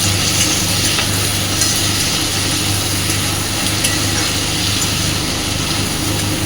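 Thin, long-cut potatoes frying and being stirred into a tilapia curry, a continuous close sizzle and hiss with faint scraping, steady throughout.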